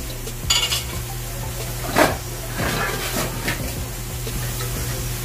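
A lid clanks onto a pot while chayote and chicken sauté, a short metallic knock over a steady low hiss of cooking, with a couple of softer scrapes and clinks following.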